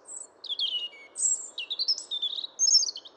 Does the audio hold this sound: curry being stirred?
no